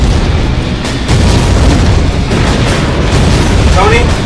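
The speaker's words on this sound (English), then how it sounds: "The explosions are screwing the surveillance up" Dense rumbling blasts and booming explosions in the Xbox 360 game Iron Man 2 fill the scene continuously, loud and chaotic, with voices faintly mixed in.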